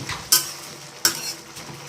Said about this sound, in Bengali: এবার ধনে বাটাকে ভালো করে মিশিয়ে দেবো